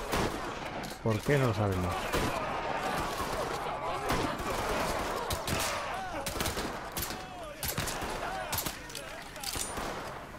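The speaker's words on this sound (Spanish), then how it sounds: "¡Oh, mierda! Se oyen tiroteos por ahí." Gunfire in the video game Mafia 3 crackles as repeated shots and bursts, moderately loud and sustained, under someone speaking Spanish.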